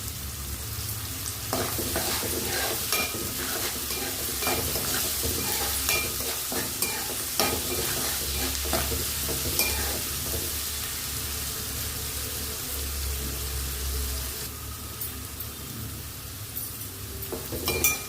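Onions with a little salt fry in oil in a pan for a thotakura fry, a steady close sizzle running throughout as a spoon stirs them with repeated scraping and occasional light clinks.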